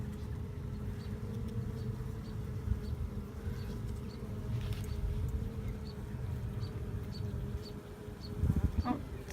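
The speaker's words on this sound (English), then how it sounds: "Come on, bees, go away." Honeybees buzz in a continuous, droning swarm around an open hive, steady and close for the whole stretch, with no voices over it.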